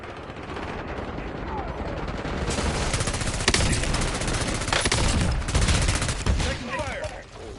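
Dense, loud gunfire from a Call of Duty style shooter game fills the scene, with rapid automatic bursts and heavier shots layered together continuously, and faint radio-like voice callouts mixed underneath.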